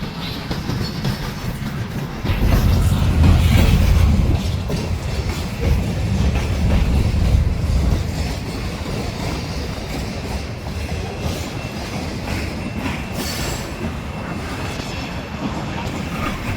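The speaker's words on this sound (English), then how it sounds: "while this train was passing, we heard a horn behind us" A freight train rumbles past close by in Fostoria, Ohio, a loud, steady roar of rolling cars and wheel clatter that swells early, then holds for a long stretch.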